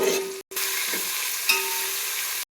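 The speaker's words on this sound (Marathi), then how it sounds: "कांदा छानपैकी आपला भाजून झालेला आहे. आता आपण त्याच्यात टोमॅटो ॲड करूया." Onion and tomato frying together in a pan for biryani, a loud, close, continuous sizzle that cuts out briefly once, then returns with a faint stirring scrape before stopping abruptly.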